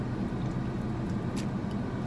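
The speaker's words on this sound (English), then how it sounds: "I'm letting this guy pull his big truck in." A big truck pulls in nearby, a continuous low engine rumble at moderate level with a couple of brief higher clicks or squeaks, no talking.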